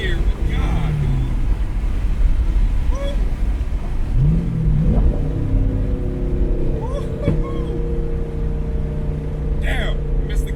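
A twin turbo Corvette Z06 accelerates hard through a roll from about 40, its engine note rising and dropping through gear changes under excited talking and laughter from inside the car.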